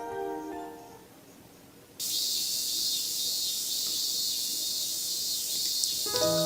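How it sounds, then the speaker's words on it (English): Summer cicadas from the visual novel Narcissu: Side 2nd switch on suddenly as a loud, continuous, high shrill drone that holds steady after a faint musical opening. "The burning sun and cries of cicadas"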